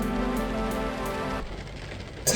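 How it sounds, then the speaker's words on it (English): Steady rain falls outside during work on a MK2 Golf headliner, a soft, dense patter that continues throughout, partly mixed with a low humming tone in the first half. "I've got to wait for this rain to do one"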